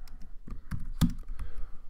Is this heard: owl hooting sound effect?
no